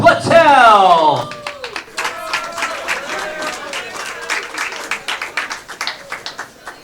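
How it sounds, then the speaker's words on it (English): A crowd applauds a player at the APA U.S. Amateur billiards championship finals at Strokers Billiards, with steady overlapping claps that thin into scattered individual ones, following a brief announcer's voice at the start. "How about one more big round of applause for Stuart Warnock"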